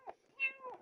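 A stray kitten meowing in a Roblox game, a short high rising-and-falling meow, close and fairly quiet, heard alone.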